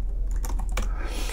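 A password is typed on a computer keyboard with a quick burst of several close, crisp key clicks in an irregular rhythm over a low background hum.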